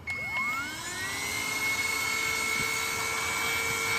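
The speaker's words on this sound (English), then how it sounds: "I want to show you my vacuum." A vacuum cleaner works inside the front trunk of a Tesla Model 3, starting with a rising whine that settles into a loud, steady high-pitched hum close to the microphone.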